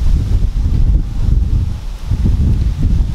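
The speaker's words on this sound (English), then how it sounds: "It's cold and windy out." Cold wind blows outdoors, buffeting the microphone with a loud, low, continuous rumble that surges and dips slightly.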